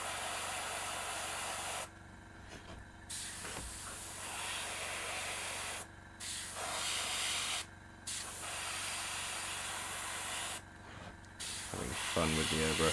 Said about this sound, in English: Having fun with the airbrush